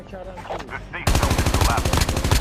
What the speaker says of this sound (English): these mods I have right now on the MX9 are the best SMG mods for me.